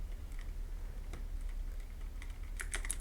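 Keys tapped on a computer keyboard while entering a search in Windows, a few light scattered clicks, then a quicker close burst of keystrokes near the end, no voices.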